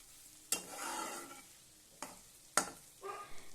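Prawns cooked down with spices in a pan for several minutes over medium heat, with three distinct stirring scrapes and sharp pan knocks over a faint, low sizzle.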